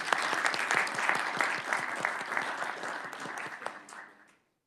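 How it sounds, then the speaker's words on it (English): A modest round of applause from people at a state House committee hearing on education budget, with distinct individual claps audible in the patter, steady for about four seconds before quickly dying away to silence. "we would like to congratulate you on your victories and your successes, and give you a round of applause for that"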